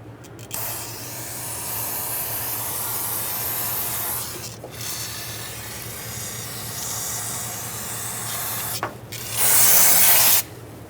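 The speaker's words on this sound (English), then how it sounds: "so I'm going to wipe everything down with a rag and spray brake parts cleaner on this to clean everything off." Brake parts cleaner sprayed on the rear brake hose area of a 2006-2011 Honda Civic, a long steady hiss with brief breaks, ending in a louder close burst, over a low background hum.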